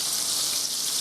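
Thin-cut pork chops sizzling in a frying pan over medium heat, a steady bright crackling hiss with no breaks.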